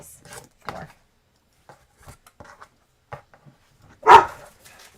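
Dogs give a single sharp, loud bark close by amid sparse clicks, taps and handling noises in an otherwise quiet room.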